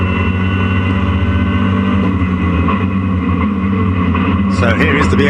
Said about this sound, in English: So here is the BMW to complete 9 laps.